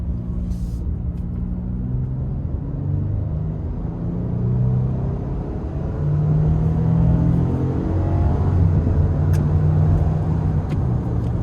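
A 2026 Nissan Frontier PRO-4X pickup truck accelerates with manual shifting, its engine droning loud and close from inside the cab as the note climbs through rising gears, no talking heard.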